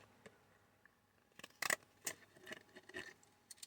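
Decorative-edge scissors snip through paper for a Harry Potter collage page, a sharp close cut in a quiet room followed by several softer, scattered snips and paper rustles.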